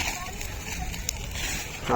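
Papers burn in an outdoor fire after a house cleaning, giving a steady hissing rush with a few faint crackles, with indistinct voices in the background.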